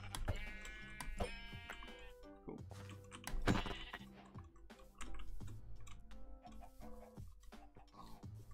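Sheep bleating in Minecraft, several short game bleats scattered across a busy stretch with clicks and other game sounds, fairly close and clear.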